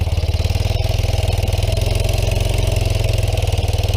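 A small Yamaha three-wheeler engine runs steadily, its close, loud, even putter pulsing quickly for the whole stretch, with no voices.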